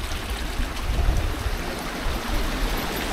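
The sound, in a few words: strong current of forest water flowing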